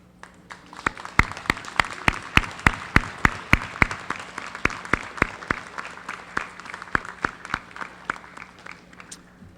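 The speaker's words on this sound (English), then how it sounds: "Students, please stand and give a round of applause to thank those here for you tonight." Audience clapping at a high school leadership awards ceremony, a sparse, fairly slow applause of distinct individual claps, moderately loud and continuous throughout with no talking.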